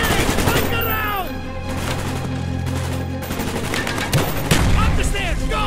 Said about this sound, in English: Oh my god, he's still shooting at me.